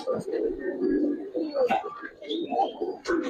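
A Boyel pigeon, part of a master pair of breeding birds, gives soft, rolling coos close by in repeated low phrases, with a few short higher chirps mixed in.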